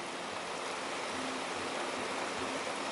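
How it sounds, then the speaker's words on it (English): A mountain stream in the Black Mountains rushes through the misty Olchon Valley, producing a dense, steady roar of tumbling water that holds at an even level throughout, with no voices. "all the water rushing down."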